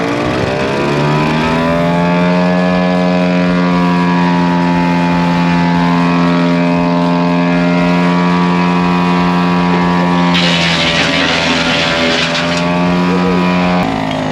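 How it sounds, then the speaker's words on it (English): A tracked wood chipper runs at an outdoor farm show in South Africa, its engine giving a loud, sustained droning roar with a harsher grinding surge near the end. "They're gonna give us a demonstration of the wood chipper."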